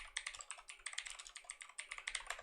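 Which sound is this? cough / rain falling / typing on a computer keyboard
typing on a computer keyboard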